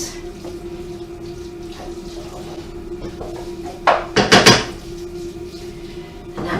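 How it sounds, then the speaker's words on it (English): Minced meat being stirred through a sauce in a pan for lasagne, with a steady kitchen hum behind a close, brief cluster of clattering scrapes and knocks of a utensil against the pan. "Mix it all through. Make sure it coats the mince."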